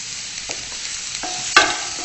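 Stuffed mushroom filling with pepper being sautéed in a pan, giving a soft, continuous sizzle with a few scraping stirs and one sharper clatter near the end, no voices.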